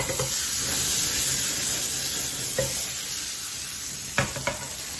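A smashed burger sizzles hard in a pan with flame drawn into it, a dense continuous hiss and crackle up close, broken by a few sharp clatters of a spatula or pan.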